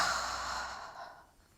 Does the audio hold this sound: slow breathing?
yes